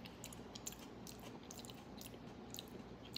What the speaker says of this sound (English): What's crunching is them cilantros.